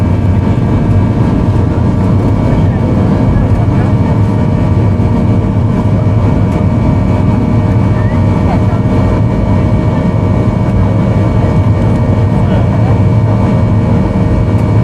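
Jet engines of an airliner during takeoff and climb on a holiday flight to Paphos, Cyprus, heard from inside the cabin as a loud, constant low roar with a steady whine above it.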